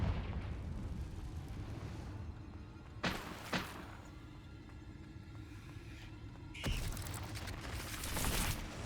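Fiery Confringo spell blasts in the Hogwarts Legacy video game, quiet overall, with sharp bursts near 3 and 3.5 seconds and a bigger roaring blast from about 6.6 seconds that swells toward the end, over low rumbling game sound.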